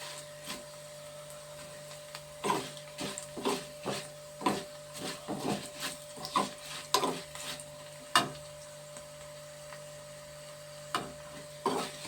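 Tempering spices frying in hot oil give off a run of sharp crackles and pops at irregular intervals over a steady low hum, close and moderately loud, with no talking.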